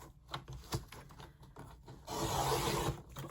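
Paper being trimmed about half an inch along one side of a homemade Franken paperclip project, close scraping and rubbing strokes with a denser, louder cutting pass near the end, no talking.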